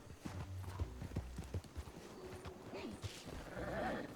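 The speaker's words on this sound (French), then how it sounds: "Il y a son cheval dehors." Hooves clip-clop in a steady, uneven rhythm, fairly close, with a horse snorting or whinnying softly toward the end.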